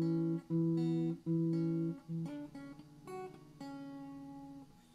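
Electric or acoustic guitar plays a riff from a song an octave higher, with single plucked notes and short phrases ringing alone, slightly uneven.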